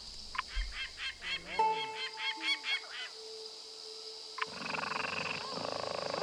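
Game bird calling in the video game Reus: a series of repeated honking, goose-like calls in a steady rhythm, followed by a brighter, noisier effect, with no speech.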